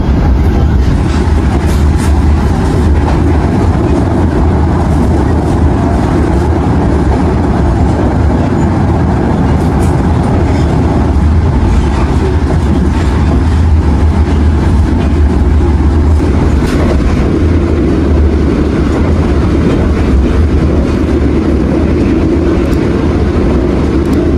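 On board the Gajah Wong passenger train from Pasar Senen to Lempuyangan, a loud, constant rumble of the carriage on the rails runs throughout, with faint rhythmic clatter over the track.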